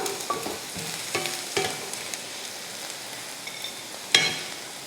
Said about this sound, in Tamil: அந்த மாதிரி நம்ம வதக்கிட்டு இருக்கோம்.